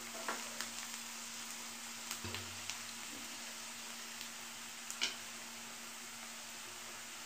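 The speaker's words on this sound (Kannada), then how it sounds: "ಎಣ್ಣೆಯಲ್ಲೇ ಫ್ರೈ ಆಗಬೇಕು ಖಾರದ ಪುಡಿ ಕೂಡ" Red chili powder frying in oil with onion for a simple onion gojju gives a soft, low sizzle, with scattered light ticks and a few spoon taps against the pan.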